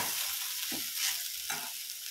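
A spoon stirs food in a cooking pan, with a few distinct scraping strokes over a soft, constant sizzle of frying, heard close with no voices.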